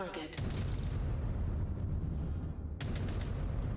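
Mech weapons firing in Mechwarrior 5 Clans on a Dire Wolf, heard as a dense, continuous roar of rapid rounds with sharp bursts at the start and again near the end, loud and close, with a voice talking under it.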